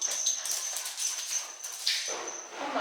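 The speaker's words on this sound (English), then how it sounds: "my dog is going crazy. She got the zoomies." A dog with the zoomies scrambles around indoors, its feet patting and skittering in quick irregular bursts over a faint high background tone.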